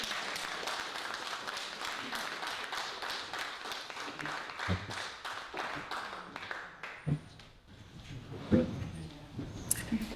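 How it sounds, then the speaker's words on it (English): Audience applause at a Culture Night poetry and music evening, a dense run of claps for several seconds that thins into scattered claps and background noise. "So give a clap for Victoria."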